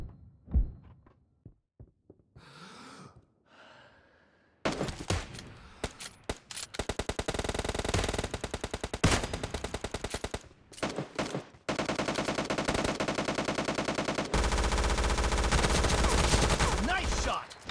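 Sustained automatic gunfire from PUBG Mobile Lite gameplay, loud rapid bursts running almost continuously with short pauses, preceded by a few isolated shots, with a brief voice early on.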